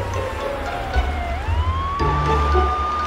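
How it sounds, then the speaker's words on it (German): A cartoon emergency vehicle siren wails steadily, its tone dipping and then rising again, heard over a low rumbling engine and background noise. "Das klingt wie eine Sirene."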